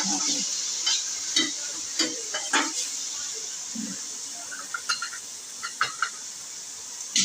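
Finely chopped onion sautés in a pan with a soft, steady sizzle, punctuated by irregular clacks and scrapes of a spoon stirring close by.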